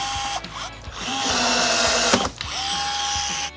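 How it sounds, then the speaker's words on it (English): A power drill with a 3/16 drill bit bores holes through a metal trailer wiring bracket on a Kia Niro, whining up and biting in two close, loud bursts separated by a short pause, with no talking. "Use the bracket as a template to drill out 2 holes using a 3/16 drill bit."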